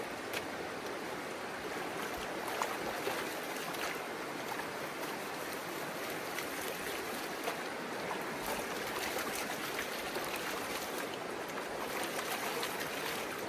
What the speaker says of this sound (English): Now what I'm doing is I'm stratifying and I'm getting all the heavies to drop to the bottom.